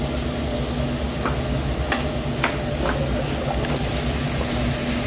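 Mushrooms frying in a hot pan while making coq au vin, a steady loud sizzle with a few sharp crackles and pops scattered through it.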